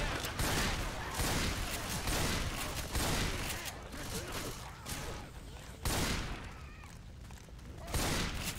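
Bursts of gunfire from Left 4 Dead 2 in an online match, loud and dense, with repeated broadband shots and booms that rise in waves every couple of seconds.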